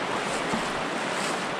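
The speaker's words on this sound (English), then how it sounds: "I hope you guys can hear us really well over the roar of the water that's here." Loud, steady roar of rushing river water in The Narrows canyon, a broad continuous wash of noise filling the whole stretch with no break and no voices.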